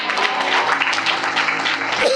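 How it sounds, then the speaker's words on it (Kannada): A church congregation clapping together during a sermon, a short dense burst of applause that stays full and close throughout. "ಯೇಸುವಿಗೆ ನಾವು ಚಪ್ಪಾಳೆ ಕಾಣಿಕೆ."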